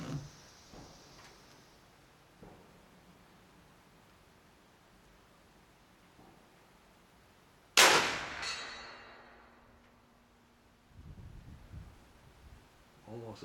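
A single sharp, loud report from a big bore air rifle fired outdoors, a sudden burst that trails off over a couple of seconds, followed by rustling and handling noise.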